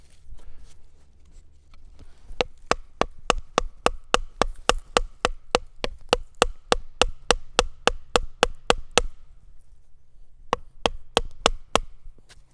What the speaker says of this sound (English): I'm going to hammer that in at about that angle